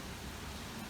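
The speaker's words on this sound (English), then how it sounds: "it is extremely windy." Steady, roaring broadband noise of storm-force wind buffeting outside, continuous and loud with no pauses or voices.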